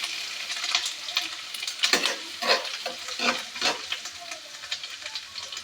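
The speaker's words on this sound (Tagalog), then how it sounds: "Pumainit na mantika, itambog natin ang ating luya." Ginger dropped into hot oil for papaitan sizzles and crackles loudly up close, with bursts of spitting and stirring over several seconds and no voices.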